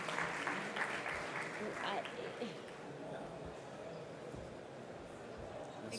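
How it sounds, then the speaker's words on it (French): A conference audience in a large hall applauds with a burst of clapping that thins out over a few seconds, and voices murmur underneath. "animée par Martin Pavanello, que je vous demande d'applaudir bien fort"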